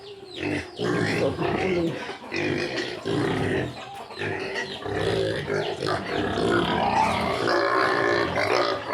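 Pigs at a piggery grunt and squeal close up in a dense, constant stream of overlapping calls that hardly pause for the whole stretch.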